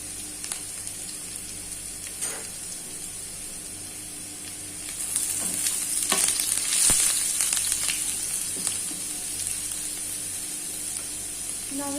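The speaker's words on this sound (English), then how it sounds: "We are going to fry this onion just for 1 minute" Onion and crushed garlic fry in a pan with a steady close sizzle, interrupted by occasional stirring clatters, and the hiss swells louder partway through.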